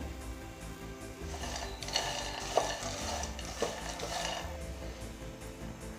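Peanuts roasting in a pan over a medium flame, turned with a spatula: a constant dry rattling scrape with a low sizzle, close and moderately loud, with occasional sharper knocks against the pan.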